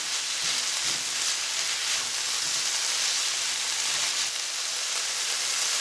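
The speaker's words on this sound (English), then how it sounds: "we're just going to cook this until the broccoli starts getting really, really deep green" Chicken and broccoli frying in a pan, a constant bright sizzle close by with faint scattered crackles, no voices.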